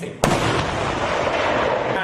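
A single sharp, loud blast from a 20th Artillery Battalion gun rings out at a Thai military weapons demonstration, followed by a sustained rumbling roar that carries on without pause.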